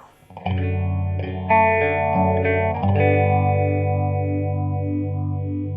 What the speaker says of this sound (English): lastly on mod, we have phasor.